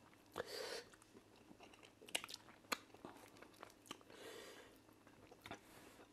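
Someone eats cocoyam fufu with ofe nsala soup during a mukbang. Close, soft chewing mixes with scattered crunchy bites and wet smacks at an uneven pace, and nobody speaks.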